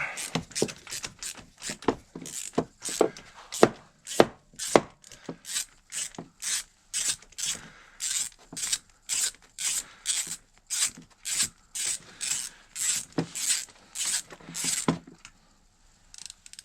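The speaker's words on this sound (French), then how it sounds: "Et on va dévisser ça." Repeated sharp ratcheting clicks from a tool unscrewing a part while servicing an MP3 500 scooter, a steady run of evenly spaced strokes close by that stops near the end.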